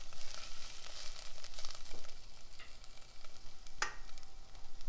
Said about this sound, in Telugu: ఇలా పుదీనా కొత్తిమీర కరివేపాకు చక్కగా వేగిపోయింది కదా